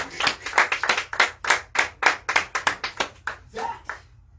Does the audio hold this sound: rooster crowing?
no